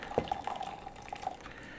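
Water trickles and drips softly for a moment as a small amount is poured over peat pellets, quiet and close with a few light splashes.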